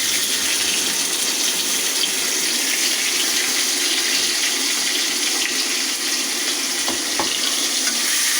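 Chopped onion frying in oil in a pan for ash gourd and egg bhaji: a steady, loud, continuous sizzle with a bright hiss, broken briefly by a couple of stirring clicks near the end, no talking.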